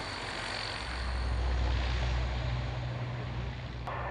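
A fixed-wing aircraft rolls for takeoff on runway 27 at Fairford, giving a steady, distant engine drone that swells in the middle and then eases off, with no talk over it.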